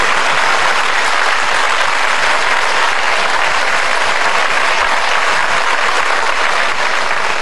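Applause fills an office gathering celebrating good promotion results, a dense, loud and continuous clapping from a group that holds steady throughout.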